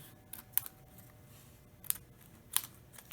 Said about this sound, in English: You're gonna cut all the way along the fold that you made.